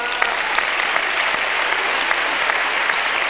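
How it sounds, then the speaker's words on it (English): A church congregation bursts into sustained, dense applause at a revival service, a steady wash of many hands clapping with no break and no voices on top. "You don't want to clap your hands over that one?"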